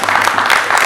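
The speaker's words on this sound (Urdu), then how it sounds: "میں نے دیکھا کہ اس پہ مرد حضرات زیادہ تالیاں بجاتے ہیں" Applause from an audience at a poetry and music afternoon, a dense, loud patter of clapping that holds steady with no pauses.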